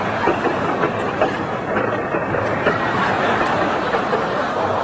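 A freight train rumbling past near Wilmington, Delaware, a steady dense roar with faint rail clatter throughout and no pauses.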